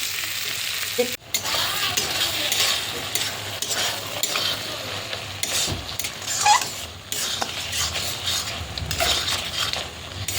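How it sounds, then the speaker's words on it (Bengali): Eggs sautéed with spices in a pan on the stove give a steady sizzle and frying hiss, broken by scraping and stirring of a spatula against metal, close up with no voices. "ডিমে কিন্তু মশলা দিয়ে আর কষাচ্ছি।"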